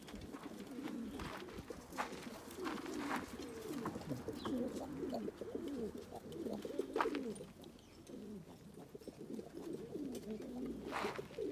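Pigeons coo with low, throaty, repeated calls in a loft that holds adult birds and young squabs. The calls overlap softly and come close by, with a few sharp taps and rustles in between.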